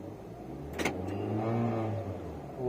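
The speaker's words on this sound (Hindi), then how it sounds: "तो मैंने गियर डाल दिया यहाँ पे" An AMT car gearbox engages a gear with one brief mechanical clunk. The gearbox has a faulty sensor that stops gears engaging, and a low, steady engine idle hums underneath, quiet and close, with no talking.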